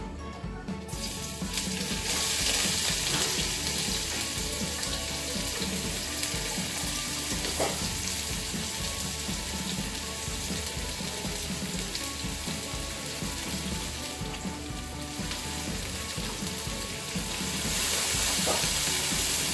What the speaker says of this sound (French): la première chose que je vais mettre dans ma poêle va être les oignons